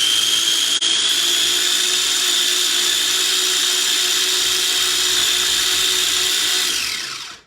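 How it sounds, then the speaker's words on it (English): Food processor whirring as it blends tahini and lemon juice: a loud, steady high-pitched motor drone running continuously for several seconds before spinning down, close by and with no voices. "I got the tahini and the lemon juice in the food processor"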